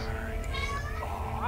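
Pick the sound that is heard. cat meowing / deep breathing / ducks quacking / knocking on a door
cat meowing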